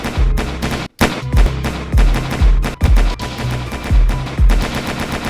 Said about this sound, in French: Et les coups de feu, compilation.